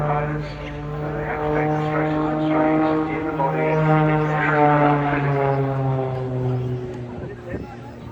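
A strong carbon-fibre-framed aerobatic propeller plane roars through an airshow display, its engine drone rising and falling in pitch as it passes, with a commentator talking over it throughout.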